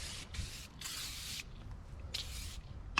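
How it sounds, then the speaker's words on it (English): Bursts of hissing spray from an aerosol can of cleaner, several presses of varying length in quick succession, close and fairly quiet against a low background rumble. "So I decided to spray everything down with the aerosol can."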